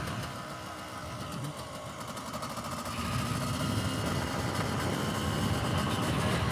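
A Yamaha YZ250 two-stroke motocross bike set up as a supermoto runs steadily with a dense, buzzy engine note that grows a little louder and fuller partway through, with no talking.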